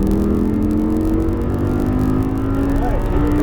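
An Audi R8 drives through a coned track course, its engine droning loud and close with a steady throttle hum and a brief rising rev near the end.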